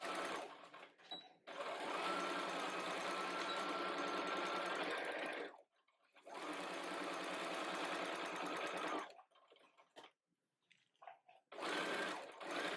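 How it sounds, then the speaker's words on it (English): A sewing machine stitches a costume seam with backstitching, running in long steady bursts separated by short pauses, loud and close with no talk over it. "I'm going to start stitching here, and I'm going to make sure to back stitch and reinforce that notch / seam"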